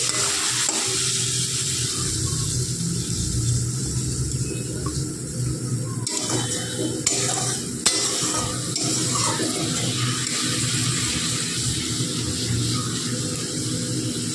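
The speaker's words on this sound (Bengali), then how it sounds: "এবার মশলাটা ভালো করে কষিয়ে নেবে। মশলাটা যাতে নিচ থেকে ধরে না যায় মামুনি বলছে একটু জল দিয়ে দিই।" Spice paste for a rohu and eggplant curry cooking in a pan after a splash of water is added, giving a steady close hiss and bubbling with faint stirring scrapes throughout, no talking.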